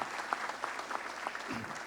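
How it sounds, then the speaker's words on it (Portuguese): An audience applauds in a brief, fairly quiet burst of clapping, with a few individual claps standing out sharply over the wash. "Uma salva de palmas."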